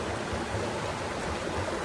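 A shallow creek with a sandy bottom and a log lying in its bed flows with a steady, low rushing wash, continuous and fairly faint, with no one speaking.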